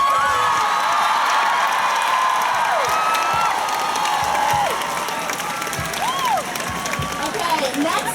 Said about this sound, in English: Can I get another round of applause for those amazing youth?